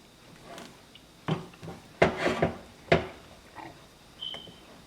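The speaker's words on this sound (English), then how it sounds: "Keep stirring" Cou cou being stirred in a pot, with close, irregular scrapes and clattering knocks against the pot's sides and a few louder clanks, and no voices.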